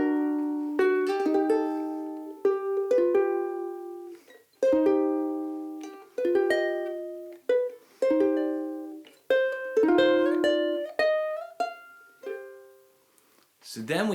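Solo guitar chord melody of a song, a slow waltz of plucked chords and single notes, each ringing and decaying before the next, close and clear.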